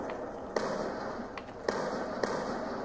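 Explosions in Call of Duty Black Ops 2 Zombies video game: several sharp, fairly faint bangs spaced about half a second to a second apart over a steady noisy game background.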